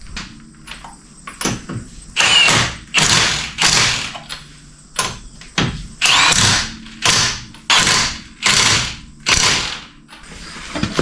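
An impact wrench drives wheel lug nuts onto a 1983 Pontiac Firebird, with loud repeated rattling hammer bursts of about a second each, separated by short pauses and small clicks, close up.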